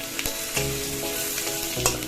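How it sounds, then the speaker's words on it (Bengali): Cumin seeds and chopped garlic sizzle loudly in hot oil, a dense close crackle with a few quick stirring scrapes. "সামান্য জিরে ফোড়ন দিলাম, এর মধ্যে রসুন কুচি দিচ্ছি"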